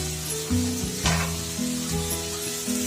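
Garlic fries in hot oil in a pan as part of a spicy chicken curry, a steady close sizzle with a brief louder spatter near the middle and no talking.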